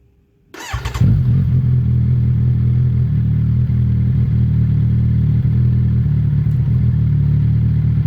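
A Kawasaki Ninja 1100SX motorcycle with its exhaust can removed starts up, then settles into a loud, steady, deep idle rumble that runs throughout without any talking.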